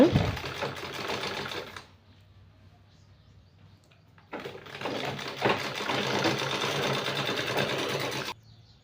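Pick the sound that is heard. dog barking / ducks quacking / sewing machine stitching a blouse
sewing machine stitching a blouse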